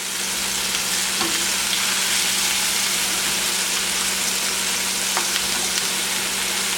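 Scallops stir-frying in a hot pan give a steady, close, even sizzle that runs throughout, with a couple of faint pops and no voices.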